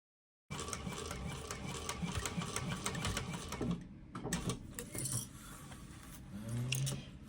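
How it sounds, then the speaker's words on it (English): Sewing machine stitching vinyl for a handbag, a steady close mechanical whir and needle chatter that starts abruptly, runs for a few seconds, then slows and stops with softer handling noises after. "Whenever I am sewing with vinyl, I always sew a second row of stitches"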